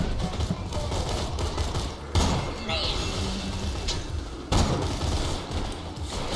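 Gunfire in Borderlands 2, rapid bursts of shots and loud impacts layered over constant game noise, with a sharp boom-like hit partway through and another burst near the end.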